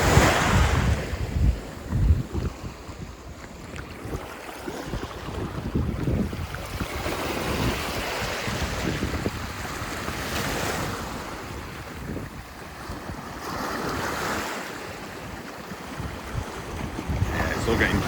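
Atlantic surf breaking on a Lanzarote beach where someone is fishing, a steady roar of waves washing in and out over about eighteen seconds, with heavy wind buffeting the microphone throughout.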